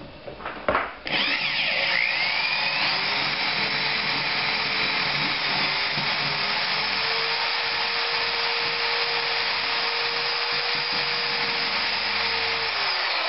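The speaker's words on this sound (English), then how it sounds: "you want to drill through it again" A power drill whirs steadily at close range after a brief clatter, its grinding pitch holding level with a slight wavering as a larger bit bores through a threaded metal bolt.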